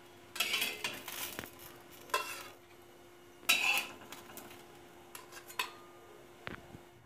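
Roasted eggplant lifted from the stove and set onto a plate, heard as a few clinking, scraping utensil and dish contacts with quiet gaps between them in a home kitchen.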